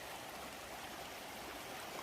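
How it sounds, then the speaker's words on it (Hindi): Stream water flows steadily at Corbett Fall in Uttarakhand, a continuous close rushing and gurgling wash with no voices. "जो पानी की कलकल की आवाज़ है और चिड़ियों की चहचहाने की आवाज़ है"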